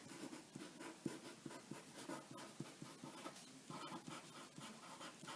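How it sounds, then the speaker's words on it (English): A pencil moves across paper in quick, light scratchy strokes, steady and close, with no talk over it. "I'm going to write that on the side of my paper"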